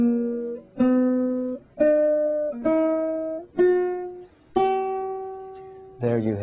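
A small ukulele plays an eight-note ascending scale in C, each plucked note ringing clearly in steady succession, rising step by step, close and alone with no talking.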